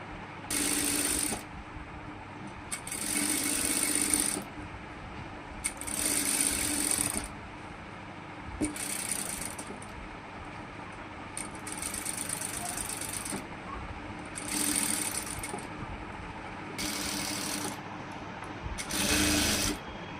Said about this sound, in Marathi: शिलाई मारून घेतली आहे मी, तुम्ही बघू शकता.